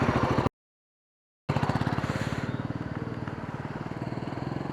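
A Royal Enfield Himalayan 450 motorcycle on the road on delivery day, its engine pulsing in a fast, steady rhythm close to the mic, broken by a brief cut to silence before the throbbing resumes and holds.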